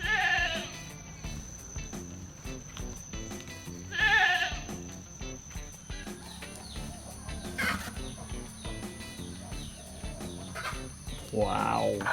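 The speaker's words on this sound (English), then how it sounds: "Goat." A goat bleats several times in wavering cries at a farm with durian and passion fruit trees, the calls spaced apart over soft outdoor ambience, birds and quiet movement, with a voice briefly heard.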